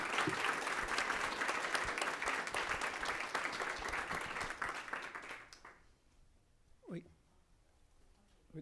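Applause from an audience at a school board of education meeting, a sustained crowd of clapping hands for about five seconds that fades out, followed by a brief voice.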